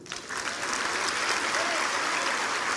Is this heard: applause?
yes